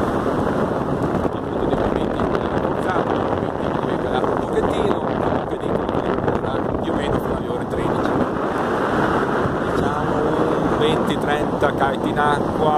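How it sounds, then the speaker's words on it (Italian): Strong northeast wind of about 20 knots roars steadily across the microphone by the sea at Sottomarina, a dense continuous rush with a voice talking underneath. "E come vedete oggi c'è vento."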